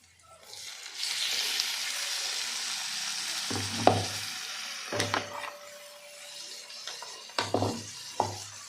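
Garlic, chili and tomato drop into a hot pan for matki sabzi and sizzle loudly, with a steady frying hiss broken by several sharp stirring scrapes and clanks of a spoon against the pan.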